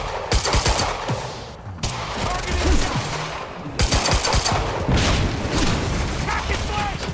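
Sniper gunfire in Quantum Break, loud sharp shots and rapid bursts with booming impacts recurring throughout, some close and punchy, with a voice speaking in between.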